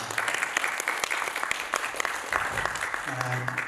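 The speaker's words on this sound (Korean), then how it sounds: "큰 박수로 환영해 주시기 바랍니다." Audience applause at a policy forum on founding a regional bank, greeting the first presenter, a research center director; steady mid-level clapping with some voices mixed in, and a low hum near the end.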